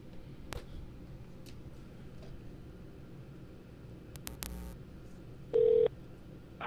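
A handful of short telephone keypad beeps sound sparsely over a steady low hiss, the last a longer clear tone, with no talk during them.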